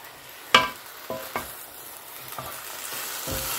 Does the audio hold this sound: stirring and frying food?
yes